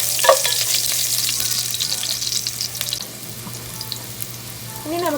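Chopped ginger and garlic sautéing in oil in a pan, a steady close sizzle with a few stirring scrapes, fading slightly toward the end.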